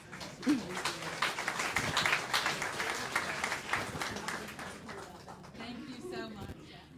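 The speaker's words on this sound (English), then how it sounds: "One more round of applause for the students" An audience at a school board meeting applauds the students, a dense wash of clapping from many hands that swells and tapers, mixed with crowd voices and talk throughout.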